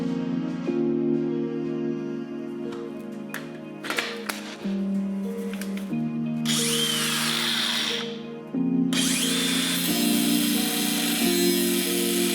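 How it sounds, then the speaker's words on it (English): Angle grinder with a thin 0.045-inch cutting wheel slices through a brake dust shield backing plate lip: steady high motor whine broken by two loud, harsh bursts of cutting screech, close up and without talk. "A 45 thousandths cutting wheel on my angle grinder can make quick work of this."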